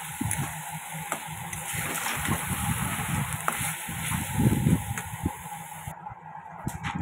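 Masala sizzling and frying in hot oil for a desi-style mushroom curry, a steady close crackle with occasional louder spits and stirring scrapes, no talk.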